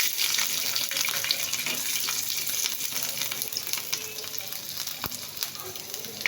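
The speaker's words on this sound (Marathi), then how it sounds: "आता मी ह्याच्यामध्ये थोडंसं तेल घालून लसूण तेलामध्ये भाजून घेणार आहे।" Garlic frying in oil in a pan makes a dense, steady hissing sizzle, close and even throughout, with faint spatter crackles and a single sharp tap near the end.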